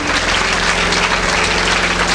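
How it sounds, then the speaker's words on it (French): An audience at a school-year opening ceremony applauds in a steady, dense wash of clapping that holds at an even level throughout. "applaudissez pour vous-même, parce que vous avez compris"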